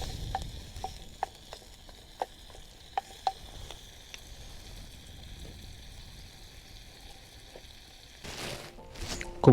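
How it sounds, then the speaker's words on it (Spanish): Bacon frying in a pan outdoors on a windy day, a steady soft sizzle with scattered sharp pops and crackles, ending in a burst of louder rustling. "Vamos a hacer nuestro bacon. Que se dore bien."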